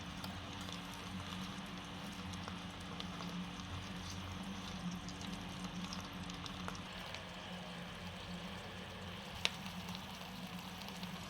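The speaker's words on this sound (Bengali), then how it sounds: "মাছগুলো খুব সুন্দরভাবে ভেজে নেব।" Shrimp fry in hot oil in a pan, giving a steady, even sizzle that runs unbroken from start to finish, with one faint sharp click near the end.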